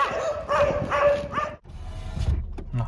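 A dog gives a few short, high yips and whining barks in quick succession, close and fairly loud, followed by shuffling and softer noises.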